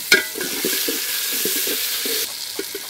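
Chopped tomato frying with spices in a pan, a bright continuous sizzle broken by soft spoon scrapes and taps in an irregular rhythm, loud and close.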